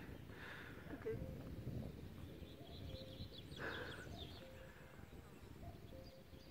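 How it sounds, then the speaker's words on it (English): Morning birdsong in a forest at a free aire in France, with faint chirps and calls scattered through the clip, heard behind a person speaking nearby and a light background hiss. "it's phenomenal to wake up in the morning and hear all these bird songs"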